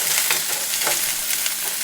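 Onion dropped into a hot pan for tamales de rajas filling, frying with a steady, close hiss and crackle that carries evenly throughout, with faint stirring scrapes and no voices.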